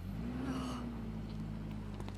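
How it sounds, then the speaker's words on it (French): A cartoon car approaches with a steady low engine hum and a rising-then-falling tone, fairly faint and continuous over a constant background rumble. "C'est la voiture de Sarah? Ce n'est pas un peu trop tôt"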